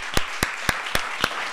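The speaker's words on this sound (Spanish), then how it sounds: "Un aplauso." At a public forum, an audience applauds a guest with sharp, evenly spaced claps, five or six crisp strikes in a steady rhythm over a quieter background.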